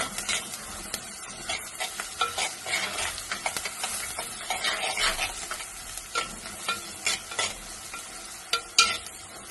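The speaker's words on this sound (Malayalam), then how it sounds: "സവാള ഒന്ന് മൂത്തോട്ടെ." Onions frying in hot oil for a Kerala shrimp and drumstick curry: a steady, close sizzle with repeated stirring scrapes throughout, no voices.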